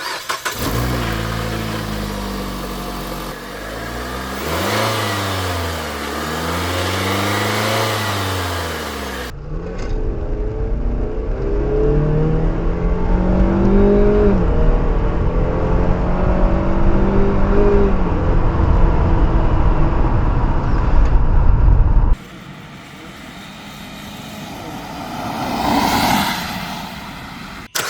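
A car engine with a K&N cold air intake starts up and revs repeatedly in rising and falling sweeps, followed by a steadier loud run, with no talking.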